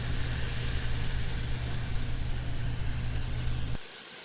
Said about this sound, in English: I'll turn the lathe on and sand it with it going forward at about 380 RPM.